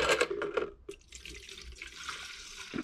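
Used cleaning liquid from a soak of Brembo caliper hardware for a Subaru Impreza STI poured out into a sink, a close splashing gush with drips and gurgling.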